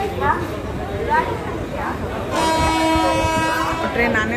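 A train pulls into a railway station at a loco pilot's retirement gathering, its long horn blast sounding clearly over a crowd of chattering people, with wheel and carriage noise in the background.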